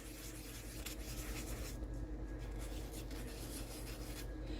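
Wood veneer is lightly sanded by hand with 400-grit sandpaper, a continuous soft close scratching rub with small shifts in stroke.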